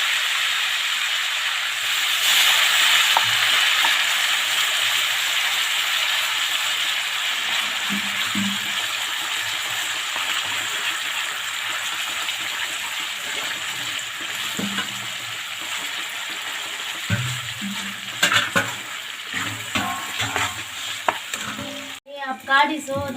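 Nalleru pickle stirred and fried in oil in a pan, giving a steady loud sizzle and hiss throughout with occasional scraping stirs, the bubbling easing toward the end.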